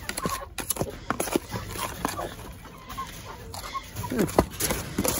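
Seven roosters peck at scattered grain near a feed dish. Sharp pecking taps and scuffles sound up close, with occasional low clucks, and no one speaks.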